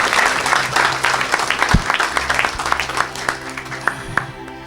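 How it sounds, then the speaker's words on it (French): A congregation in a church hall claps and cheers, with dense, lively applause and scattered shouts, plus one deep thump partway through as the clapping swells and then thins. "Oh, ça mérite une acclamation. Que ça explose dans cette salle au nom de Jésus."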